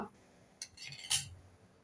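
A spoon stirring turmeric powder into a white pea mixture gives a few faint, light clinks and scrapes against the pot, quiet and close.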